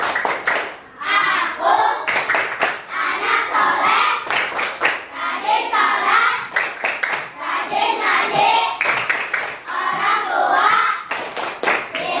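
Classroom children perform the rhythmic 'tepuk anak soleh' clapping routine, with bursts of patterned hand claps alternating with loud group chanting and shouted responses in quick succession.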